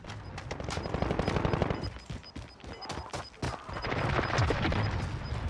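Rapid automatic gunfire from a Call of Duty Warzone Zombies match, dense overlapping bursts and shots continuing throughout at close range, with faint voices underneath.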